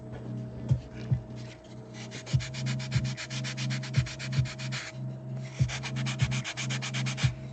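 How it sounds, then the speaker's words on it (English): Aggressive sandpaper rubbed hard over a model piece for a temple gate build, steady rhythmic rasping strokes close up over a low background hum, with regular louder pulses. "Use a more aggressive sandpaper on this."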